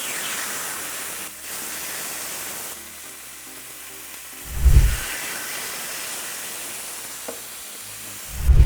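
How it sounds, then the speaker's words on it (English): Chicken pieces sizzle steadily in a hot frying pan with a constant hiss, broken by a couple of dull thumps from a pan or utensil being moved. "You're gonna hear this great sizzle."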